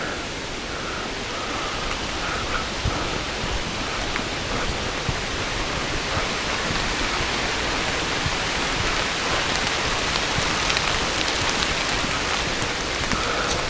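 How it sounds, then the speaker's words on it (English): Dense, steady patter of water drops falling from trees like rain in Holland State Park, Michigan, a constant hiss with scattered sharper taps throughout. "I hope that's water falling from the trees and not actual rain"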